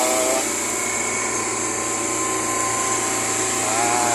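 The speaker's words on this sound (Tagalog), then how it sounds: "nandito pa yung aming vacuum pump" A vacuum pump on a refrigeration system runs steadily, a loud continuous mechanical drone with a constant hum and whine that holds unbroken throughout.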